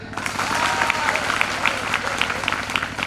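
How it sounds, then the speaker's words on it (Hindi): Audience applause at a Hindi poetry recital during an NCC Day event at a school in Karchana, Prayagraj, a dense, steady clapping from a crowd filling the whole stretch at even loudness. "तालियां।"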